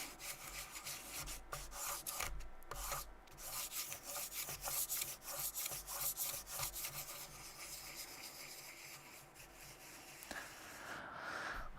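Fine sandpaper rubs back and forth by hand across a flat surface in quick, rasping strokes with brief pauses, close and quiet, with no talking.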